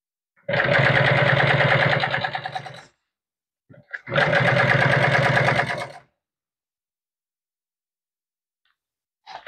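A sewing machine stitches boat cooler seat cushion upholstery in two steady, loud bursts of rapid whirring, separated by a short pause and a few clicks, then falls silent.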